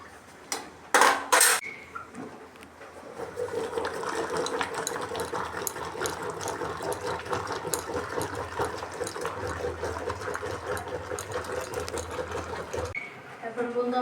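Rhythmic scraping and clinking of a spoon churning boiled lentil dal in a cooking pot, steady and close for several seconds after a couple of sharp metallic knocks at the start, with no voice over it.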